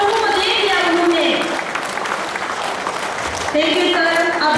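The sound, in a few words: audience applause for the speaker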